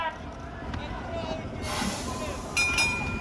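A train rumbles past with a steady low roar and some wheel squeal during a street protest in Dallas, Texas, while people talk nearby over the noise.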